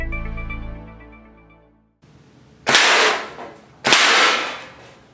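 A Vortex Tributim broadhead arrow punches through steel plate in two sharp, loud impacts about a second apart, each a bright metallic crack with a short ringing tail. A fading harmonic tone comes before them.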